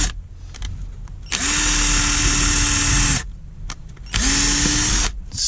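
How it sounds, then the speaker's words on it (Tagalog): A cheap 12V cordless drill runs in two bursts at speed setting 2, each a loud, steady high-pitched motor whine lasting about two seconds, with a short quieter gap between them. "So gumagana naman siya sa drill."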